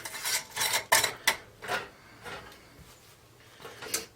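A lid and metal ring are fitted onto a hot glass canning jar, giving a few close scraping clinks and rattles followed by quieter handling.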